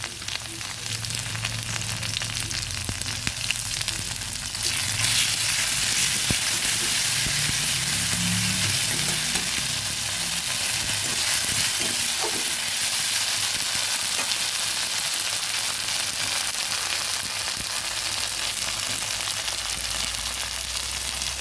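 Onion and ginger paste frying in a pan over already browned chopped onion: a loud, continuous hissing sizzle close by that grows brighter and denser after the first few seconds and holds steady.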